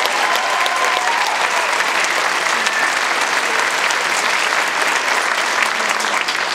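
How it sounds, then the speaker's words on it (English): Sustained audience applause fills a high school spring concert hall after a choir song, a dense steady clatter of many hands, even in loudness and continuing throughout. "Another round of applause"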